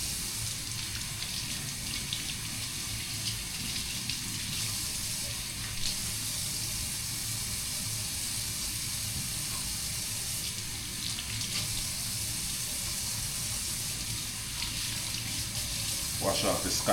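Tap water runs steadily into a sink as herbs are rinsed for Jamaican oxtail, a constant close hiss that lasts throughout with a small splash near the end.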